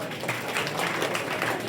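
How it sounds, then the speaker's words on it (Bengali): An audience applauding to welcome a speaker at a one-day public speaking workshop in Bishnupur, a dense, even wash of clapping that stays steady and moderately loud for its short length. "এটা জোরে হাততালি হবে"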